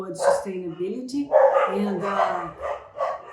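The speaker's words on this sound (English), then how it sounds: "we have the dogs here, see barking." Dogs barking outdoors at a rural regeneration community in Brazil, a few short yips and barks mixed in with someone talking close by.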